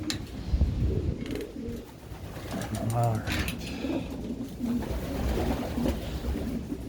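Pigeons in a loft coo softly and steadily in the background while someone talks nearby, with faint rustling and fluttering throughout.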